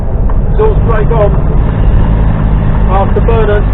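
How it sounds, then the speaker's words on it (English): An HGV truck's exhaust brake engages while driving on UK roads, giving a steady, loud engine drone that lasts the whole time as someone talks over it in the cab. "Exhaust brake on."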